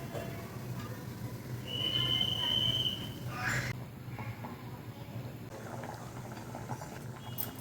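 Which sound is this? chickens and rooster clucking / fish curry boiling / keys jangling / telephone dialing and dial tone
fish curry boiling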